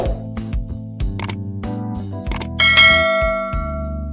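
Notification bell sound effect for a subscribe reminder: a loud, bright sequence of struck chime tones ringing out one after another, with no voices.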